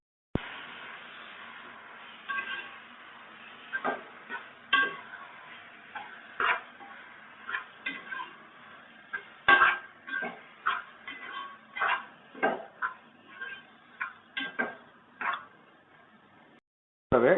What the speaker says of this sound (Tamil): 400 கிராம் தக்காளி, இதையும் சேர்த்து நல்லா மிக்ஸ் பண்ணிக்கலாம்.